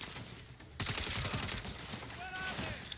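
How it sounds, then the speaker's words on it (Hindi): Sniper and other gunfire in the Saints Row video game crackles as a dense, loud barrage of overlapping shots, growing heavier partway through, with brief whistling tones near the end. "ये स्नाइपर लोग मेरे को बहुत ज़्यादा मार रहे हैं"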